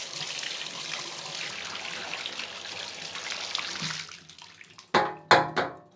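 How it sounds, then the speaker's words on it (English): A mini split air filter gets rinsed under a running tub faucet, a steady close splash of water that cuts off near the end, followed by a few sharp taps or knocks. "I rinse it out in the tub."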